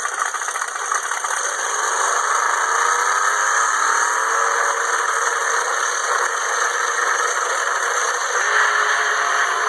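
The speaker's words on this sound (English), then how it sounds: "here is Big Chief making his first pass in NHRA Pro Mod" Big Chief's NHRA Pro Mod drag car makes a pass at the US Nationals, a steady, dense roar heard from a distance with faint rising engine tones that climb through the run.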